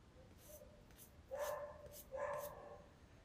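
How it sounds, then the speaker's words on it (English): A neighbour's dog barks twice from outside the front of the house while being walked past, two loud barks a moment apart after a faint earlier yip. "That's my neighbor walking her dog. He barks at everybody just like our dog does."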